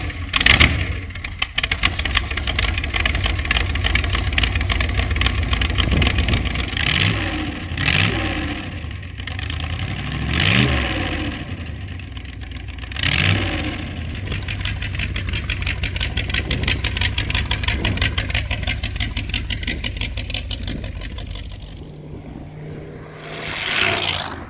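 A loud hot rod with pipes fitted with baffles and mufflers drives along, its engine droning close and heavy with several rising revs and gear changes before easing off near the end.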